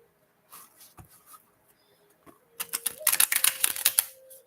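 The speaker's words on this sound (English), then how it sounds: "So I'm shuffling for Maribel." Tarot cards shuffled by hand during a live reading, a burst of quick papery riffling clicks that builds after a few soft handling taps, close and fairly loud with no talking.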